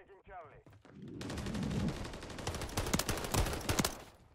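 Rapid automatic gunfire from Call of Duty Modern Warfare 3, loud sustained bursts of shots with clustered cracks, starting after a short lead-in and continuing to the end with no speech.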